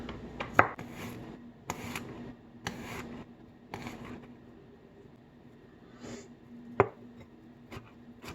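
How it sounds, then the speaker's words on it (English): Knife chopping eggplant and peppers finely on a board for canned caponata: irregular sharp taps and bursts of blade strikes, close and moderately loud, with a few louder cracks and quieter pauses between runs. "just dice it up into fine pieces"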